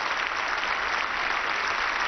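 Long, steady applause from a large crowd for the departing pope, dense and even clapping that continues without a break.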